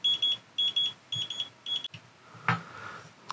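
A Radiomaster T8 Lite radio transmitter in bind mode gives short bursts of high electronic beeps in quick groups, followed by a click and a fainter lower tone.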